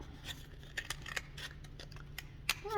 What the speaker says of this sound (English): now I'm going to cut that one out